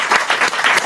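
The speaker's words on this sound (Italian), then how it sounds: "Io farei un applauso!" A short burst of clapping during an Italian talk show about One Piece, several quick uneven claps from a small group, close and fairly loud, with no voices.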